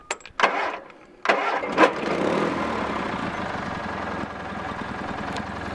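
A Bolens 2000 lawn tractor engine, already warm from running, cranks in short bursts, catches, then settles into a steady, loud running drone.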